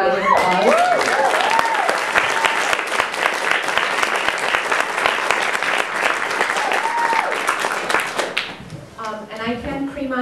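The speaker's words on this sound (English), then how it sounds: "can we just have another round of applause?" An audience at a live performance gives a round of dense, energetic applause lasting about eight seconds, with a voice talking over the start and speech resuming as it ends.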